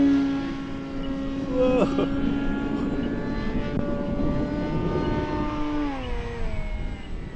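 A 2000mm FMS Beaver radio-controlled airplane flies on a windy day, its electric motor droning with a steady harmonic tone that rises and falls as it banks through gusts, with wind noise and some talk underneath.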